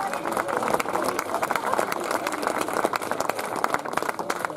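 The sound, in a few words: crowd applause at mountain bike race podium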